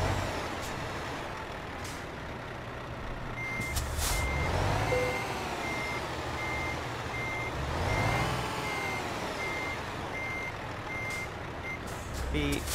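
Truck reversing alarm in the video game Euro Truck Simulator 2, a steady series of evenly spaced beeps running throughout over a low engine rumble, with an air brake hiss partway through.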